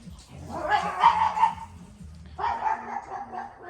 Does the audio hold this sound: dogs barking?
yes